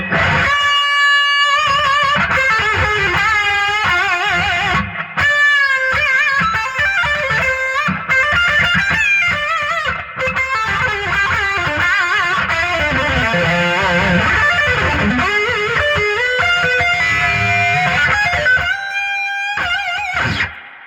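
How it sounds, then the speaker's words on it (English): An electric guitar through a BOSS Katana MK3 amp head plays sustained, wailing notes drenched in a heavy, washy reverb that lets each phrase ring out and blur together. "let's put a little reverb on here"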